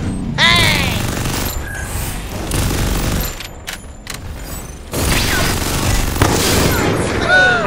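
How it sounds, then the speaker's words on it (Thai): Gunfire and explosions in the battle game Free Fire, dense loud bursts of shots and booms layered with mechanical clatter, continuing almost without pause under game effects. "มีตัวยิงผมตรงรั้วตรงรั้ว"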